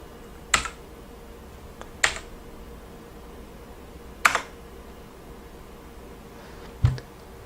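Four sharp, isolated key clicks from a VAVA Chroma mechanical keyboard, spaced a second or two apart against a quiet background, each a crisp single tap.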